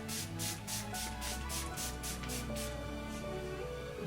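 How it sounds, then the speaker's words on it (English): A rapid series of short, hissing sprays of setting spray misted onto a face, about a dozen quick pumps in a steady rhythm, close by, over a low background hum. "let's spray the face now"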